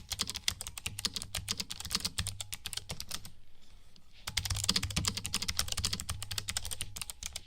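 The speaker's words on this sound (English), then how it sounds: "It just depends what you like as far as the sound of the keys." Rapid typing on a Gamdias Hermes M3 thin keyboard, dense clattering keystrokes close up, pausing briefly for about a second before resuming at the same brisk pace.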